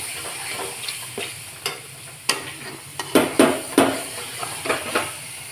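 A coconut mixture sautéing in oil in a pan while a spoon stirs it, giving a steady soft sizzle broken by a string of sharp scraping strokes that grow busier midway, close up with no voices.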